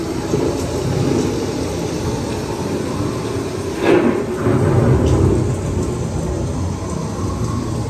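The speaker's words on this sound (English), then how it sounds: "The approaching storm may seem violent and destructive to us, but to nature, it's a new beginning in the cycle of life." Thunderstorm effect on the EPCOT ride Living with the Land at Walt Disney World, a loud steady rain roar with a crack and rolling rumble of thunder around the middle, no voices.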